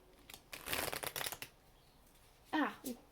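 Alice in Wonderland oracle cards being shuffled close by, a riffling burst of card flicks followed by a brief second shuffle, with soft speech in the background.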